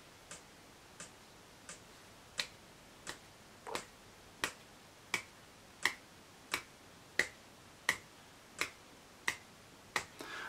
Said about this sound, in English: I need to see that you can clap or tap in time.